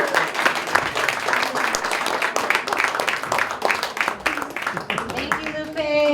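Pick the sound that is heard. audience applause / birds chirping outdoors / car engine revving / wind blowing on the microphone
audience applause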